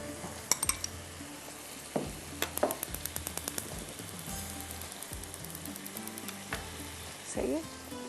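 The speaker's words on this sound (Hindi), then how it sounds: "आप चाहे तो खाली बटर से भी कर सकते हैं। इसको फ्राई कर रही हूँ" Food frying in butter in a pan for a shrimp meethi masala, with a soft continuous sizzle and repeated clinks and scrapes of a utensil stirring against the pan, fairly quiet and close.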